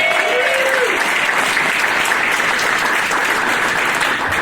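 A roomful of people at a Santa Cruz employer recognition ceremony clapping loudly and evenly throughout, with a brief whoop near the start and no voice on top.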